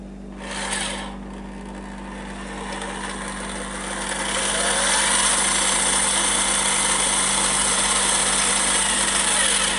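Electric motor of a 1986 Nikko Ferrari Testarossa RC car running for the first time, a steady close whirring hum with a tonal drone that grows a little louder and holds on.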